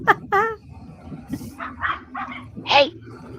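A dog gives a series of short, sharp barks and yips nearby, spaced irregularly over a few seconds.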